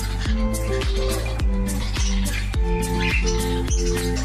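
A cockatiel from a home breeding setup with pairs in cages, squawking in loud, repeated harsh calls with a steady rhythm among other birds, close to the listener and with no talking.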